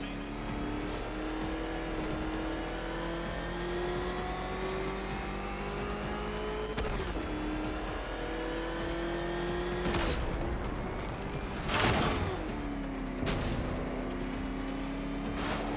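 Batmobile engine in a Batman Arkham video game roars in a steady high drone, its pitch rising and shifting with gear changes, with occasional sharp crashes and bursts layered over the continuous racing noise.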